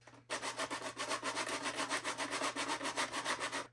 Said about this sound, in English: grab a rougher piece of sandpaper and just work it out real quick with your hands